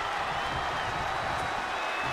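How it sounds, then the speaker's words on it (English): Dense, steady roar of an arena crowd in WWE 2K22 during an NXT TakeOver match between Bron Breakker and Solo Sikoa, a continuous wash of cheering and applause at constant loudness with no distinct voices. "The sound of this crowd is deafening"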